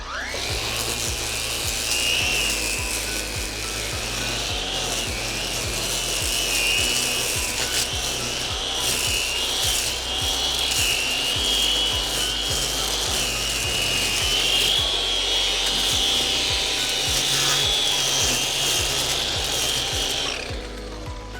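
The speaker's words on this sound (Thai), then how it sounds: "เดี๋ยวผมจะมาลองตัดเจ้าตัวเครื่องตัดหญ้าก็หัวที่ใช้จะเป็นหัวเคเบิลทาย" A steady, loud mechanical whine runs continuously throughout, with a high motor pitch and constant rough buzzing, from a Makita UX01GZ 40V cordless string trimmer cutting grass without pause.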